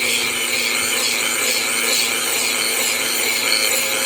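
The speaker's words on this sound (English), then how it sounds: "Just sawing back and forth." A Dremel rotary tool fitted with a saw blade is worked back and forth with light pressure, cutting through a challenge lock, producing a continuous, close, buzzing rasp with no pauses.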